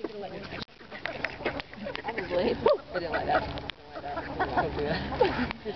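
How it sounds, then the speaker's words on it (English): Several ducks quack and chatter nearby in an outdoor setting, their calls overlapping irregularly with some rustling and background noise. "These ducks literally came running up the hill when we came out here."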